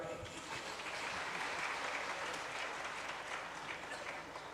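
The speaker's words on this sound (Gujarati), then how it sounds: "તાળી પાડો." Steady, dense applause from a seated audience at a religious discourse during a festival celebration fills the whole stretch, loud and unbroken from start to finish.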